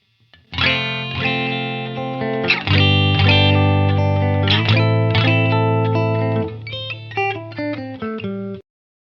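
Electric guitar processed through Line 6 Pod Go effects, the same chord and note sequence now thicker with distortion, chorus and a touch of reverb, played alone with no voices and finishing on quick detached notes.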